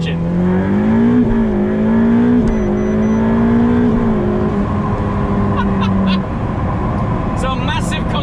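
A Ferrari 488 Pista engine revs hard and climbs through the gears, its loud rising howl dropping sharply at each quick upshift before pulling again, running continuously up close.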